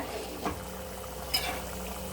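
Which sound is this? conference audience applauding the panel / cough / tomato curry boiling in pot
tomato curry boiling in pot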